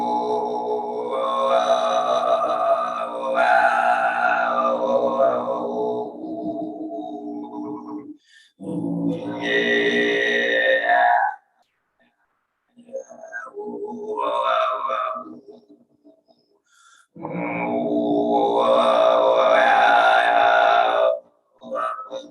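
Mongolian throat singing in the hatera style, which imitates a forest sound or a camel after loading, performed at an international week reception: long sustained droning vocal phrases with strong overtones, broken by short pauses, close and fairly loud.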